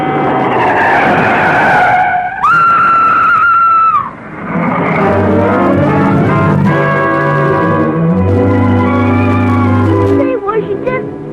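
A car skids with a loud, sustained tire squeal that fades out, followed by the car's engine running close by, all set against a 1940 film's music.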